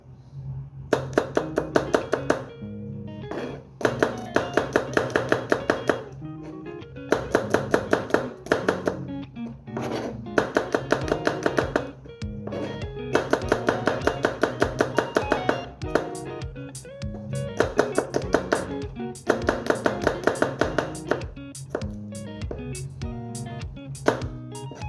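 Garlic is chopped with a knife on a board for a mashed bharta dish. Close, rapid knife strikes come in rhythmic bursts of a second or two, separated by short pauses, and go on for the whole stretch.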